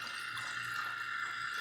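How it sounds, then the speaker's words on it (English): Film developing chemicals pour steadily into an AGO film processor, a continuous, close liquid splash and trickle with an even level throughout and no pauses. "Okay, I think I poured enough."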